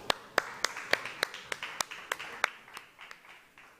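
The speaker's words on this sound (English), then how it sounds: "A round of applause, please." Applause at a startup summit panel on the Sandbox Stage: a dozen or so distinct claps from a small audience, loud at first and thinning out, alone with no talk.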